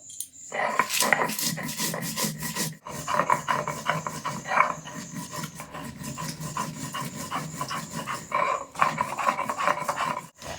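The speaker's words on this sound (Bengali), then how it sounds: "এবার শুকনো লঙ্কা আর গোটা জিরে বেটে নেব এটাও মিহি করে বেটে নেব" Dried red chillies and whole cumin are ground into a fine paste on a stone by hand, giving repeated rough rasping and scraping strokes in an uneven rhythm, close and moderately loud, with brief pauses.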